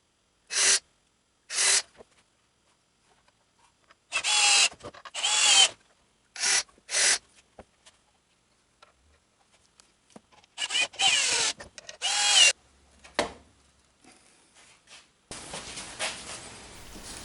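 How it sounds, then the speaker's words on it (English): A power drill drives 3-inch stainless steel wood screws into water wheel paddle panels, in a string of short, loud whirring bursts, some doubled, with quiet pauses in between. "Screw in all 3 panels, leaving each screw about 1/4 inch out."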